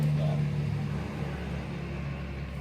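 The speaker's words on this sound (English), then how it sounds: "Sorry about the noise, the truck just went by." A truck passes by outside during a car paint buffing session, heard as a steady low rumble with a faint hum that lingers throughout.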